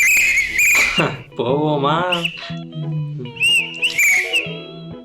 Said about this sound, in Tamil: விசில் வாங்கிட்டு வந்திருக்காரு.